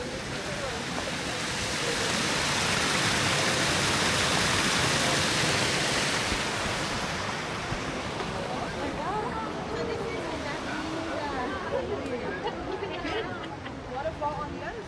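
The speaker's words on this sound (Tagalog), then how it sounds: "Waterfall on the other side." Waterfall at Sensoji Temple, a broad steady rushing hiss of falling water that swells then eases slightly, with a crowd's chatter and nearby voices mixed underneath.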